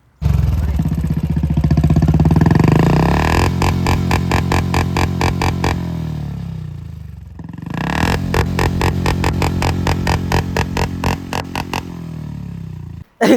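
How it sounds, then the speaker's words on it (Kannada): BS4 Royal Enfield Bullet 350cc fitted with an aftermarket silencer rumbles close up, first revving hard, then settling into a rapid thumping idle, briefly dropping off before another rev and a return to the steady, popping exhaust beat. "ಸೈಲೆನ್ಸರ್ ಚೇಂಜ್ ಆಗಿದೆ ಸೌಂಡ್ ಮಾತ್ರ ಯಾವ ತರ ಕ್ರೇಜ್ ಇದೆ ಸೌಂಡ್ ಕೇಳಿ ಫಸ್ಟು"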